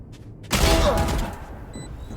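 Gunfire in the tactical shooter VALORANT, a short burst of shots landing a headshot during a tournament grand final, one loud crack followed by a fading tail with faint background noise.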